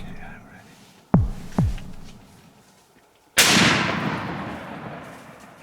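Rifle shot fired during a leopard hunt in Zimbabwe: a single sharp, loud crack followed by a long rolling echo that fades out, after quiet whispering and two brief thumps.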